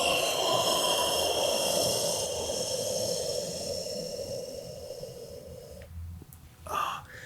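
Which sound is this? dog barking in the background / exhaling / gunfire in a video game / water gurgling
exhaling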